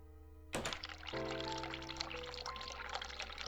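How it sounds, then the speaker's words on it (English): A hot water tap is turned on in the video game The Cat Lady: a thunk, then water pours and runs steadily for a few seconds over a low background hum. "I will turn on the hot water."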